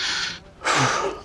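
A man pants heavily after walking uphill in a hilly town in northern Tenerife, with two close, loud breathy exhalations separated by a brief pause.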